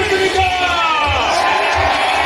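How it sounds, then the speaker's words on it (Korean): Loud cheering and shouting from a large outdoor crowd at a campaign rally in Yeouido, near and continuous, with voices and whoops blending into a dense roar and rhythmic low thumps underneath. "참석자들의 환호와 함성이 매우 컸습니다"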